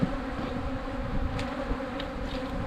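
A steady low hum of honeybees rises from an open hive, fairly soft and even, with occasional brief higher buzzes of single bees passing near.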